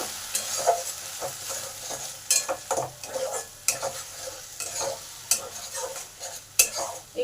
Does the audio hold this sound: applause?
no